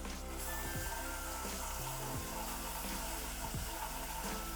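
Ginger garlic paste hits hot oil in a cooking pot with a steady, dense sizzle and hiss, a few louder spits and crackles breaking through a continuous wash of frying noise.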